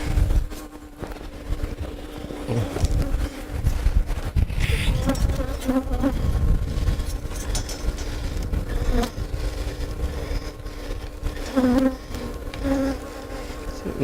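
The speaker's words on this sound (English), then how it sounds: "so back to sucking bees." A steady insect buzz of many honeybees drones throughout, layered over a continuous low mechanical hum of a bee vacuum's motor as it sucks up bees, with brief louder swells.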